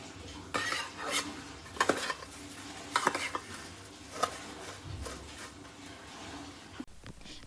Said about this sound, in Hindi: तेल में जीरा, कड़ी पत्ता, हल्दी और नमक डाल के मुरमुरी को थोड़ा सा फ्राई कर लेंगे।